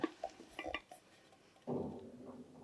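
Two cooking pots being handled while luggage is packed for a Jammu Kashmir trip: a few light metallic clinks and knocks up close, then a louder, fuller scraping clatter near the end, with no talk.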